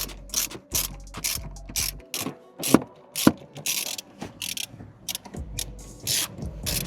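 A ratchet loosens the seat bolts in a Renault car with quick bursts of sharp clicking, each run separated by brief pauses, close and fairly quiet.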